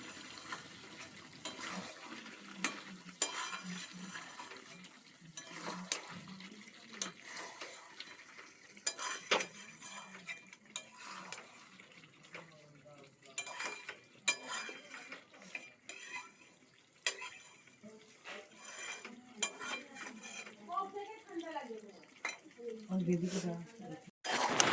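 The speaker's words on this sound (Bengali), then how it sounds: "গোলমরিচ দেওয়ার পর সেটাকে ভালোভাবে মিশিয়ে কিছুক্ষণ আবার সেটাকে আমি ঢেকে রাখবো।" Chicken curry with black pepper being stirred in a pan on a home stove, a spoon scraping and clinking against the metal in irregular bursts, with a voice talking throughout and occasional running tap water.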